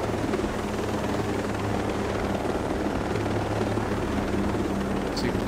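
Helicopter rotor and engine drone from the video game Ghost Recon Breakpoint, a steady, loud, continuous thrum that carries without a break and without any voices over it.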